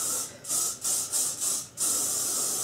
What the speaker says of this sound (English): And just spray the living daylights out of all of this.